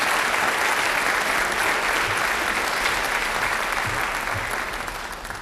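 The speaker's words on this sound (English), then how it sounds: "Let's give them another round of applause" A large audience at a senior recognition ceremony gives a sustained, dense round of applause that stays steady and then fades slightly toward the end.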